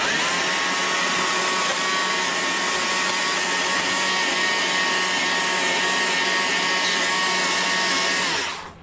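A chainsaw carves wood while shaping a wood spirit birdhouse, running as a loud, unbroken whine close by for several seconds before cutting off at the end.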